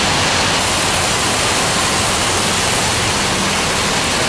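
Heavy rain outside a shopping mall in a city, a dense, steady, loud hiss of falling water heard close by, with no voices.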